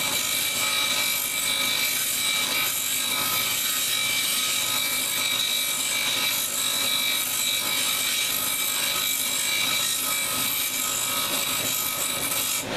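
A cabochon stone being ground on a lapidary grinding wheel to form its dome, a steady close rasping, whirring grind that continues without break from start to finish.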